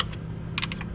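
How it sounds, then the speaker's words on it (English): A torque wrench gives a few sharp, quick clicks as bolts on the oil filter housing of a 2012 Chrysler 300 with a 3.6L V6 Pentastar engine reach torque; the clicks are close and isolated against a quiet background. "Now they're all clicking."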